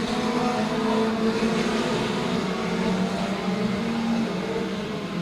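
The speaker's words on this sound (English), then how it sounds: "Front-wheel drive and rear-wheel drive machines out there doing battle." Front-wheel and rear-wheel drive race cars compete on a race track with a continuous loud engine roar that holds steady throughout.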